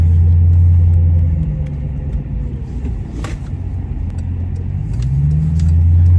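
A car's remote start shuts off as the brake is pressed: a steady low engine idle drops away into a rougher, fluctuating rumble, then settles back into a smoother drone near the end. No voices are heard.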